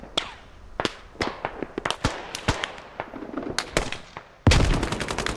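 Gunfire in the military shooter Squad: sharp rifle shots crack in irregular bursts, some close and loud, others farther off, with a denser rumbling volley near the end.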